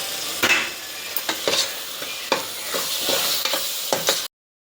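Ginger garlic paste frying in hot oil with spices, a close steady sizzle broken by repeated scraping stirs of a spoon in the pan, ending abruptly.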